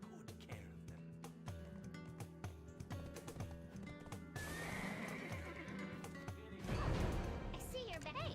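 A horse neighs and whinnies in the online game Black Desert, with clip-clopping hooves, a louder whinny near the end, and a voice talking over part of it.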